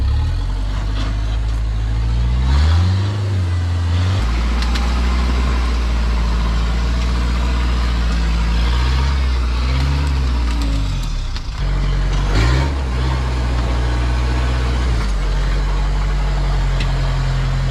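Heavy 4x4 vehicles grind along rocky off-road tracks, engines droning and rising and falling in pitch as the throttle changes, loud and close throughout.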